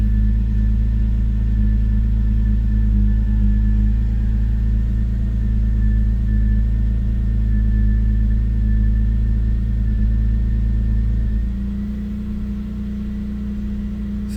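A BMW E93 528i idles roughly with a steady, low engine hum, close and continuous. The idle settles slightly lower near the end.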